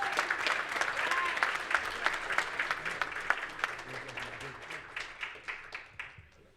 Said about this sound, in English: Let's give an applaud for all of you who volunteer your time and effort for a greater cause.